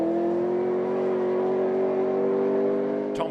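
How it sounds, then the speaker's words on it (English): A Triumph TR7 V8 rally car engine holds a loud, steady, sustained rev at close range, its pitch creeping up slowly, with a brief sharp noise near the end. "This is Mark Higgins in his fabulous Triumph TL7 V8, making that superb noise."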